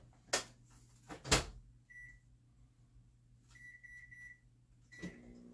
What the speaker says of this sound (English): Now I'm going to put another 4 minutes in microwave.